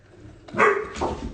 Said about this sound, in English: so you may hear some barking